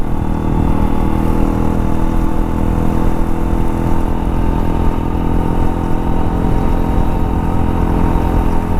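A loud, steady engine of a modified race-spec Hero Impulse motorcycle drones continuously at close range, a rough constant roar while riding with no pauses.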